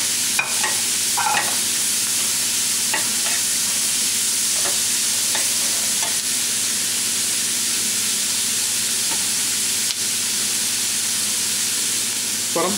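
Red capsicum and beans sautéing in a hot pan for a vegetable biryani gravy, a loud continuous hiss and sizzle with scattered stirring clicks, steady throughout with no talking.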